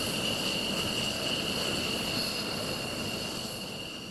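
An F-16 fighter jet flies during an Indonesian Air Force aerial demonstration in Balikpapan, giving a steady, loud engine roar with a high whine that fades slightly toward the end.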